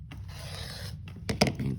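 Scissors or a rotary cutter slice through sewn quilting fabric pieces for a shaded four-patch block, a close, soft rasping cut followed by a couple of brief sharper snips.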